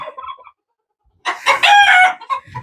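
A broody Silkie hen lets out a loud, drawn-out clucking call up close after a short pause, following a brief softer cluck at the start.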